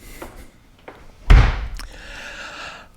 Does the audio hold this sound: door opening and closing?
yes